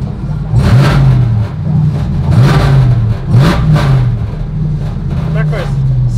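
A RAM TRX V8 blips its throttle in several sharp revs, each exhaust roar rising and falling back to a heavy idle, loud and close, with a voice talking over parts of it.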